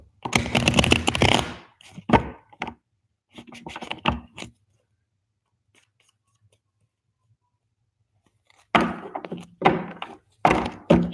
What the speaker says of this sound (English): I don't want the shuffle to be all extra loud